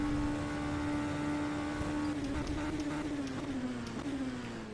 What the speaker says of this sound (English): Hard on the brakes, a little bit of a lockup,